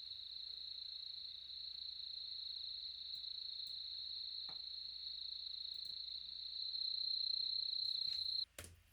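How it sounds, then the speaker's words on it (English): A steady, unbroken high insect trill, like crickets, runs for most of the clip over faint background noise, with a few soft clicks and a brief louder knock near the end. "So we can hear those crickets or whatever insects they are"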